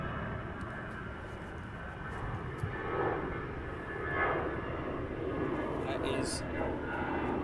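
An Aer Lingus aircraft at Heathrow Airport produces a steady engine roar in the distance that swells slightly, with a person talking over it.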